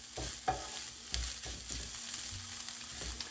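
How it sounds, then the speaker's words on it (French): Egg being stirred and broken into small pieces in a frying pan, with a steady broadband sizzle under scattered scraping strokes of a utensil, close and continuous, no voices. "il ne faut pas que ça reste une omelette entière, donc il faut vraiment casser les petits morceaux"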